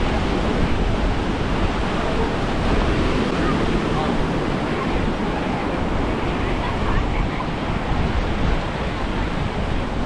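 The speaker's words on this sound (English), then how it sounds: "if you like surfing, you could definitely come and ride the waves here" Ocean waves break continuously on a busy Sri Lankan surf beach, a loud, dense, unbroken wash of surf close by.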